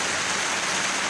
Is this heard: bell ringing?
no